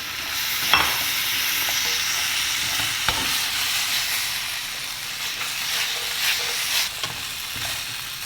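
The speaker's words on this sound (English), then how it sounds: "Now I am adding the fried baby corns to it." Fried baby corn tossed in a hot pan for Manchurian, a constant loud sizzle and hiss with a few sharp scraping clatters of the pan and spatula scattered through it, close up.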